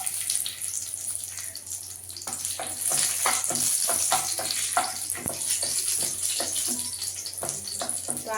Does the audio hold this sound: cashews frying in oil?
yes